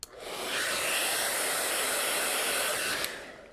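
A hair dryer whooshes on, blows steadily for about three seconds warming beeswax candle sheets, then cuts off, a single short burst heard up close.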